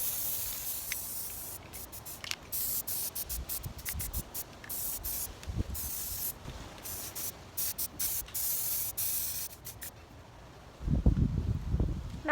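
An aerosol can sprays paint onto furniture and a chandelier in a series of close, loud hissing bursts of varied length, separated by short pauses, with handling noise as the spraying stops.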